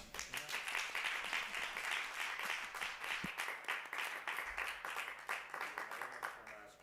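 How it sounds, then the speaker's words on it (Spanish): An audience at a talk on illustrators gives a steady round of applause, dense continuous clapping filling the space from start to finish at moderate distance. "Fuerte aplauso para"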